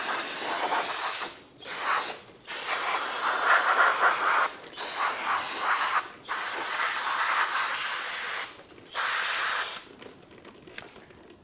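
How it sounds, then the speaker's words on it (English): Brake parts cleaner sprayed in several long aerosol bursts around the parking brake of a 2007-2017 Ford Expedition, a loud close hiss broken by short pauses and ending in quieter rattling. "Using some brake parts cleaner, I'm going to spray around all of the area and get any of the dust out."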